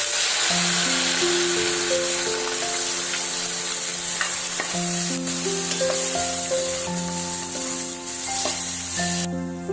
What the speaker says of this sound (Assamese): তাতে হালধিখিনি ভালদৰে মিক্স হ'বলৈ অলপ ফ্ৰাই কৰি দিছোঁ।